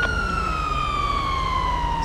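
Ambulance siren from the video game GTA 5 wails steadily and loud, a sustained tone sliding slowly downward with overtones over a low engine rumble, alone without talk.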